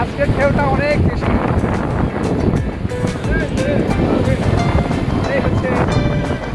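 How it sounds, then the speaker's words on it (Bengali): Strong sea waves surge and wash at Cox's Bazar beach, forming a loud, continuous roar mixed with wind buffeting the microphone, while several voices shout and talk over the water. "আজকের ঢেউটা অনেক বেশি।"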